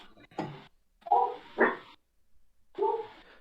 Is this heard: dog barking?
yes